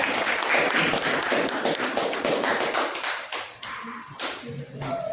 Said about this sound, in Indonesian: Mas Iman silakan berikan tepuk tangan ya